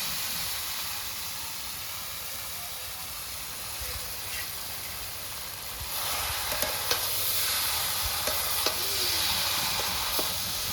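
Raw mango pickle with sugar stirred in a pan over a steady background sizzle and hiss, with scattered scrapes and small clicks of the spoon growing slightly louder halfway through.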